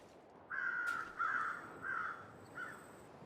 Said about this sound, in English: there are the crows